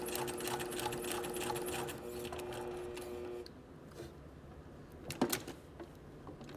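A sewing machine runs steadily while sewing a quarter-inch seam, a close mechanical hum that slows and quiets partway through, with a few clicks and knocks near the end.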